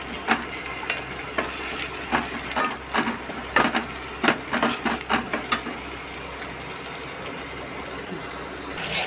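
Masala being sautéed in oil with tomato for a chana dal saar, a steady sizzle of frying punctuated by a quick series of sharp scraping and clacking spoon strokes against the pan, then settling back to sizzle alone.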